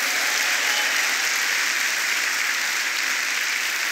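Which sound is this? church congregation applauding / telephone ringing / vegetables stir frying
church congregation applauding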